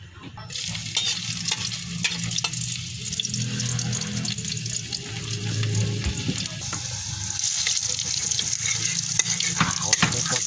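Miswa noodles fry in a pan with a steady, dense sizzle that runs throughout, joined by occasional stirring clatter, close and fairly loud.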